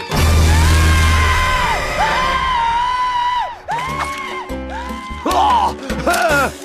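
A piñata creature in the Viva Piñata video game screams as it is burnt alive under a sun lamp, a loud wailing cry with sliding pitch that rises and falls over several seconds, followed by bursts of shrill game sounds.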